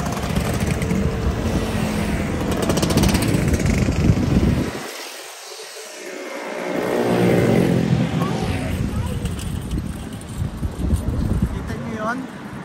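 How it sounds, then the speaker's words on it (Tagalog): Motorcycles and a scooter pass along a road in Torbay, Devon, UK, with loud, wind-buffeted engine noise that swells as they go by, fades briefly, then builds again, while people talk over it. "Ganda na mga motor nila o."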